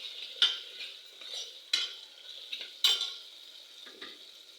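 Ingredients for masale bhaat stirred and sautéing in a pan, with soft sizzling under scraping spoon strokes and a few sharp clinks of utensil against metal, close and fairly quiet.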